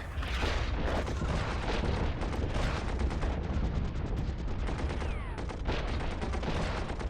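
Dense, continuous bombing and gunfire from a World War I strategy battle, with rapid overlapping shots and deep booms packed together at steady loud volume throughout, no voices.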